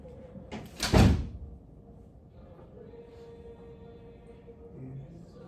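A classroom door swings shut with a single sharp thud, followed by a quiet room hum and faint background murmur.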